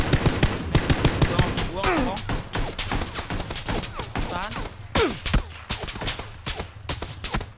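PUBG gunfire with rapid automatic bursts and single cracking shots, loud and close, coming in clusters across the stretch while a voice talks excitedly between and over the shooting.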